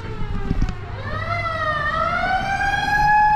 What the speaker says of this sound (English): Oh, just an ambulance.